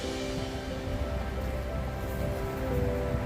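Running water rushes in a steady broadband wash from a river flowing into the Rhine, close by and unbroken, with no voices over it.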